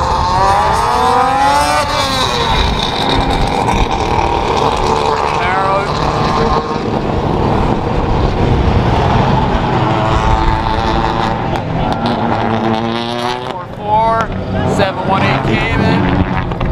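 Race car engines rev and whine at close range, rising and falling in pitch, while someone talks over the noise.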